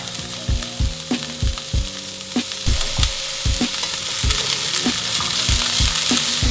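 Carrots and red pepper sautéing with onions in a pan, a constant sizzle broken by a steady series of utensil knocks and scrapes as the vegetables are stirred, close and fairly loud.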